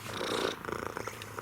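A cat purrs steadily and softly up close, a low rhythmic rumble that continues through the short stretch with no voices.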